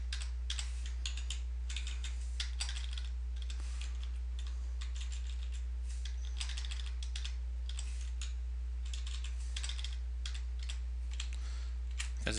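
JavaScript code is typed on a computer keyboard, a steady close run of quick key clicks with brief pauses over a constant low hum.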